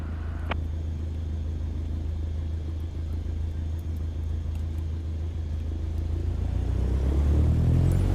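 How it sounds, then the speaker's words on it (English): Aircraft engine in a flight simulator game throttling up to begin taxiing, a steady low rumbling drone that swells and grows louder toward the end, with no voices. "Now, gently increase throttle to get the aircraft moving."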